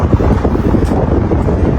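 Steady, loud wind buffeting the microphone on a bridge, a dense low rumble that roars without pause throughout.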